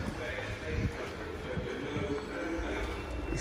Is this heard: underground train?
yes